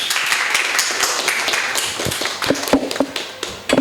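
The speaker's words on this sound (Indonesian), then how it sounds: "Tepuk tangan yang meriah buat Rizal." A live audience claps for a guest being welcomed at a podcast taping, a steady dense patter of many hands close by, growing more uneven with sharper individual slaps toward the end.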